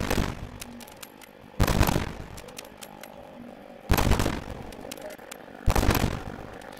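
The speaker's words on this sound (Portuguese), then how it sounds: "eu vou tentar com essa espingarda de mão aqui" Four loud, sharp blasts from a short handheld shotgun fired at a crocodile in the Roblox Wild West game, spaced unevenly with quieter game ambience and faint clicks between shots.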